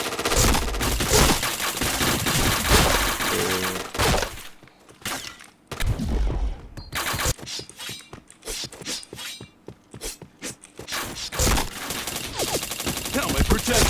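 Bursts of rapid gunfire and fusillades from a video game shootout come in dense volleys, briefly drop to quieter gaps, then return in scattered shots and clatter.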